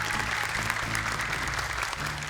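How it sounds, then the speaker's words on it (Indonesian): Dense, steady applause from a studio audience at an Indonesian Quran-memorization children's talent show, a continuous wash of clapping hands filling the whole stretch without a break. "Boleh tepuk tangan yang meriah untuk mereka."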